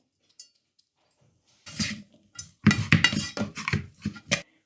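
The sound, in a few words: mixing ingredients into rice in a bowl for onigiri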